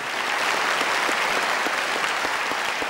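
A concert audience gives sustained, steady applause to welcome a Vietnamese singer onto the stage. The dense clapping stays loud and even throughout, with no talk over it.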